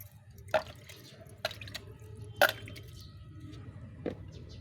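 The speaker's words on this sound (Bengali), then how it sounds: "এই সাইড দিয়ে এখন সামান্য একটু জল ছিটিয়ে দেবো।" Water sprinkled onto a China banyan bonsai planted in a pot, heard as a few sparse, close drips and splashes that come in separate bursts over a quiet background.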